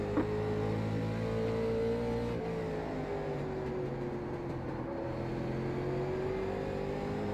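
A late model stock car engine in iRacing at Southern National holds a steady, loud drone with strong harmonic tones, pitch shifting slightly as the car runs through the lap.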